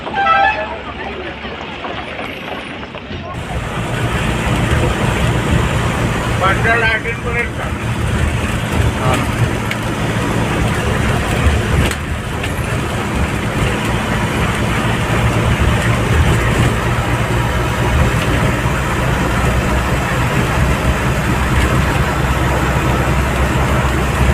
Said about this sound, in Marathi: गाड्या बघ किती येतात